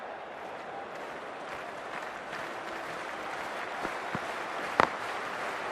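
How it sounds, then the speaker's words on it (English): A cricket stadium crowd in a video game gives a broad, steady roar of applause and cheering that swells slightly, with a couple of sharp louder claps near the end. "We're about to get underway and already the crowd is up and about."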